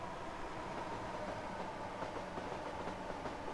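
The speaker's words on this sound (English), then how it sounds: "And a 455 coming in" A BR Class 455 electric train pulls into a station with a steady, dense rumble and rail noise that holds at an even loudness throughout, with no voices.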